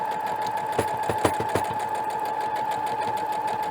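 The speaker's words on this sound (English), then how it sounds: "It can be dangerous sewing over your pins like this." A sewing machine stitches a fabric mask over pins, a fast, even mechanical whir with a few louder clunks early on, close and alone.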